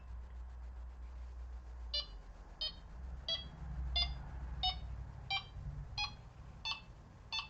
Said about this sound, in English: There you go, loads of beeps.